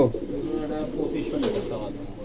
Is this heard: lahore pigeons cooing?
yes